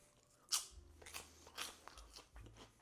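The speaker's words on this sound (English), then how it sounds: "That is a really nice pork rind." Crunching bites into a salty, peppered pork rind snack, a sharp crisp crack followed by several softer chewing crunches, close and quiet.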